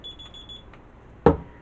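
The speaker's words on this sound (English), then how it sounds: "my alarm is going off" A phone alarm beeps in four quick high tones, then a single loud thump or knock lands near the end of the short stretch.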